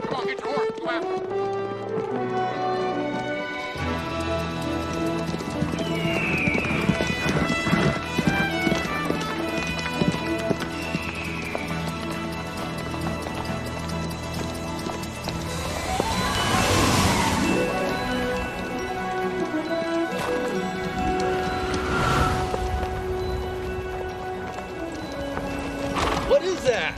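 Several horses gallop with rapid clip-clopping hooves and loud whinnies in a Western chase, dense and close, with shouting voices mixed over the hoofbeats.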